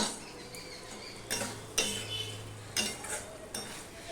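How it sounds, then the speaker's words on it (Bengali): Lentils and banana stem being stirred in a cooking pan, with a utensil scraping and clinking against the metal in a few separate strokes over a faint background sizzle, close by and without talk. "এবার ডালটার সাথে আমি একটু কষিয়ে নেব, তাহলে খেতে ভালো লাগবে।"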